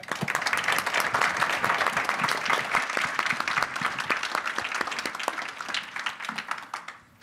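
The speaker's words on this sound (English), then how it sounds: "So a round of applause for our panelists who did a marvelous job." Audience at an AI detection and incident response panel gives a dense burst of applause that holds steady for several seconds, then thins out and stops.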